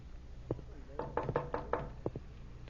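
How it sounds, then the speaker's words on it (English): Knocks on a wooden door in an old radio drama: a single rap, then a quick run of four or five firm knocks and a final pair, close and clear, with faint voices underneath. "Answer the door, Freddie, while I get rid of this apron."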